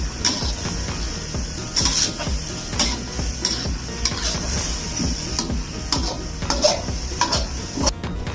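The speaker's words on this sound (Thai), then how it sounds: "แล้วก็ผัดกะเพราคลุกเคล้าให้เข้ากันกับหมู" Holy basil and pork stir-fry in a hot pan, with a constant sizzle broken by repeated sharp scraping strokes of a spatula against the metal every second or so, close and fairly loud, with no voices.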